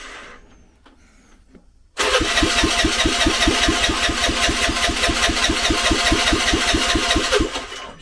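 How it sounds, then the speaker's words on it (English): After quiet, a Vespa scooter engine that has not been started for a while cranks and fires up, then settles into a loud, steady rhythmic idle close by. "It might take a bit to start this because it's not been started for a while."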